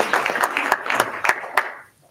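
A few scattered claps from a small audience at a school board meeting, sparse and uneven bursts that thin out and fade to near silence.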